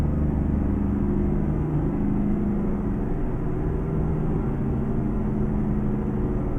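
HFG FL86 truck engine in American Truck Simulator, a steady, loud low rumble droning continuously without letup.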